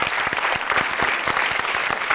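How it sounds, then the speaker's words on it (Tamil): Studio audience on a Tamil kids' game show clapping after a correct answer, a brisk, even burst of many hands that stays steady and fairly close throughout. "கைதட்டு."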